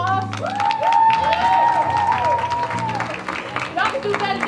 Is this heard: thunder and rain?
no